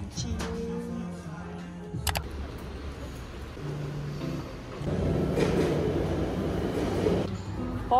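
A Boston subway train rumbles on its tracks with low mechanical hum, squeaks and a swelling roar as it moves, heard close inside a station or car.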